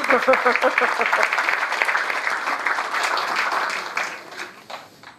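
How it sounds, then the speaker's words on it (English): Applause from an audience at a spinal injury awareness day event greets a woman invited to the stage, with dense, steady clapping that fades out near the end, and speech heard over the top. "let's applaud her."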